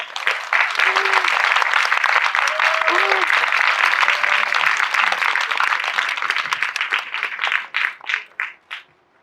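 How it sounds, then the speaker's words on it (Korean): Loud, dense applause fills a packed cinema auditorium as a film director and actor are welcomed for a special screening talk, sustained for several seconds before thinning into scattered claps and fading out, with faint voices mixed in. "큰 박수로 맞이하겠습니다."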